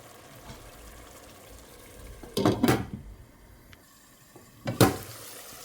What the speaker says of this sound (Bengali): তো আস্তে আস্তে আমি পানি অ্যাড করে দেব